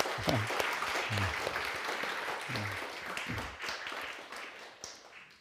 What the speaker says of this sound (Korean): 뜨거운 축복과 감사와 영광을 박수합시다